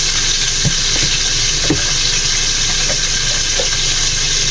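Food frying in butter in a home kitchen, a loud, constant sizzling hiss close up with a few faint knocks and scrapes scattered through it, and no voices.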